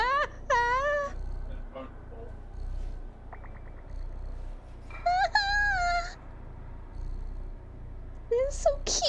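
A house cat gives several clear, rising meows, with two longer drawn-out calls and a short cry at the end. It stands out loudly against steady low background noise, and a person's voice murmurs briefly in between.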